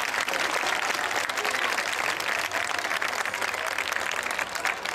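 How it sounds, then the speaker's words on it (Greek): A crowd applauds continuously at a Greek folk dance workshop show before the dancers come out, the clapping thick and even across the whole stretch, a few voices mixed faintly underneath. "θέλουμε χειροκρότημα πριν βγουν πάνω"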